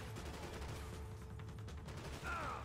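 Distant, muffled gunfire in the video game Max Payne 3, a short steady rattle of shots under a low background hum, fairly faint throughout.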